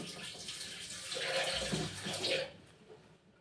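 Water poured into a mixer jar while making ash gourd juice, a short splashing gush that swells in the middle and cuts off abruptly, leaving quiet.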